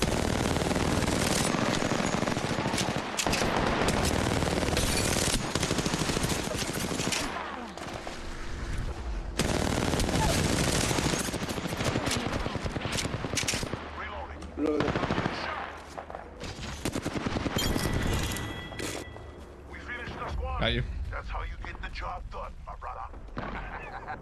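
Bursts of automatic gunfire and single shots from a shooter video game with shields and batteries crackle almost continuously and loudly, with players talking over the fighting throughout.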